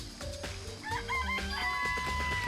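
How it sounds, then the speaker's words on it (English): Chickens in the Danganronpa video game cluck and a rooster crows, a short, busy burst of farmyard calls close up with no talk. "Look at all those chickens."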